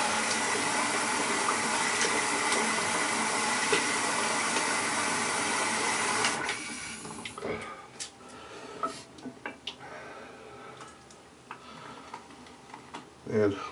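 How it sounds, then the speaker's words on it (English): Running water splashes steadily as a face is rinsed mid-shave with a Merkur 180 double-edge razor, a broad continuous wash that stops after about six seconds, followed by scattered drips and soft handling sounds. "Again, wash your face just a little bit."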